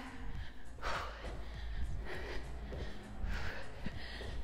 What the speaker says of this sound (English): Already out of breath.